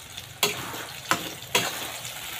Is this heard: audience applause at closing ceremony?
no